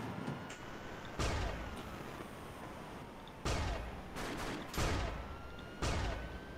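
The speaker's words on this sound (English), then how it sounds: "I shot someone." Gunfire in the Roblox game Liberty County: four sharp, loud shots spaced a second or two apart, with a faint synthetic hum running beneath them.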